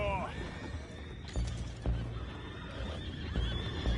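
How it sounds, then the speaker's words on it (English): Horses neigh and whinny in Red Dead Redemption 2, a high wavering call opening the clip over a busy game soundscape, with a few heavy thuds and faint voices underneath. "go find out about those horses down below."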